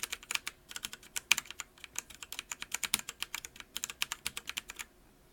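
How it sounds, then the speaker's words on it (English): Arrow keys on an Azio MGK-1 mechanical keyboard are pressed in a fast, steady stream of crisp clicks with short gaps, heard close and at modest level without any voices. "And here's what the arrows sound like."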